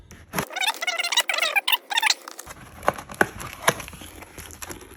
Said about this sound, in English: Let's open these seals.